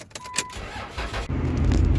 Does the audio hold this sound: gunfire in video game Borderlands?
no